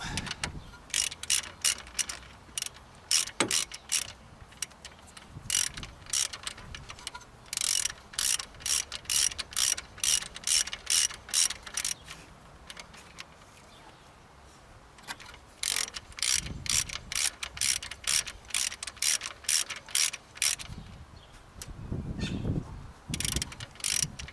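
Ratchet wrench tightening 14mm bolts on the cylinder head of a Toyota Prado 90-series 1KZ-TE diesel engine: long runs of rapid, close metallic clicks in bursts, with brief pauses and a few low knocks between strokes.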